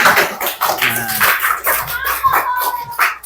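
Several people clap in a classroom during a lesson, producing a loose burst of hand claps close to the listener, with children's voices and chatter mixed underneath.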